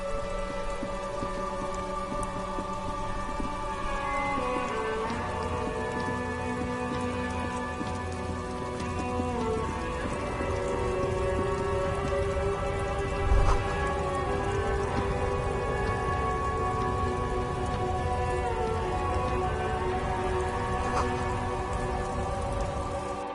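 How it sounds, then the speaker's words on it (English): Steady rainfall in a video game, a dense even patter of drops on surfaces lasting throughout, with soft ambient musical tones underneath and one brief low thump midway. "This rain will not let up anytime soon."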